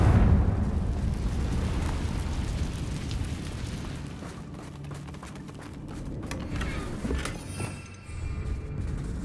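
Confringo blasting curse explosions in the Hogwarts Legacy video game: loud, rumbling booms with crackling debris, sustained and strongest at the start, followed by further bursts.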